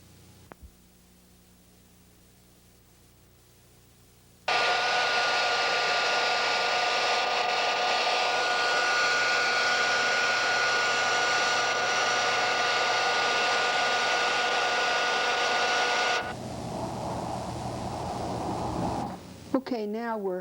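A heat gun blows steadily for about twelve seconds, a loud even roar with a whining tone, as it melts resin-lined heat shrink onto an electric vehicle conversion cable, then cuts off, leaving a quieter hum with a voice at the end.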